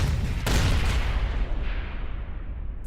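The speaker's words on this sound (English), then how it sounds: "a Predator Destructor sporting the same skeletal hand symbol firing its autocannon" A Predator Destructor tank from Warhammer 40,000 Astartes fires its autocannon: a loud, sharp blast followed by a rolling, rumbling barrage that slowly fades.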